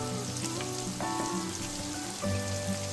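Tomatoes fry in a pan for Andhra fish curry, giving a steady crackling sizzle with scattered pops, close and moderately loud, under a background of faint tonal hum.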